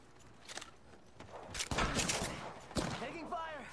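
Several bursts of video game gunfire, with broadband cracks clustered near the middle and end, partly mixed with other game noise and some voice.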